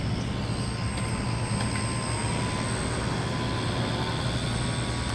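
A steady, loud engine drone with constant broadband roar and a high whine from a nitro-powered radio-controlled PBY seaplane taxiing at high speed on a pond without pause.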